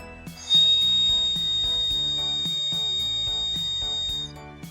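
A water-filled ceramic bird whistle warbles steadily for several seconds, a high trilling chirp with bubbly fluttering, played alone and close.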